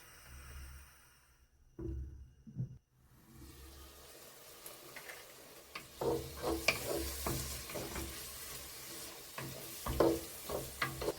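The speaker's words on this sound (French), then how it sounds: "j'ai laissé revenir à petit feu jusqu'à ce que l'oignon fonde" Pieces of fat and onion sautéing over low heat for Algerian berkoukes soup, a soft sizzle broken by repeated scraping and clinking of a spoon stirring the pan, with a brief quiet gap early on.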